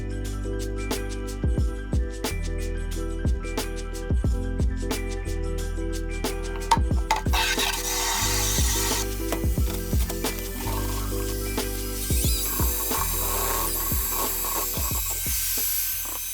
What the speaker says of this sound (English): Cutting down our ABS right here to accept our Schluter drain kit, or flange.